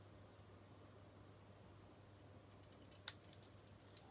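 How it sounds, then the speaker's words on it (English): Ribbon scissors trimming ribbon ends, a single quick crisp snip near the close, faint and isolated over a quiet low hum. "Then I'm going to trim the ends with my ribbon scissors."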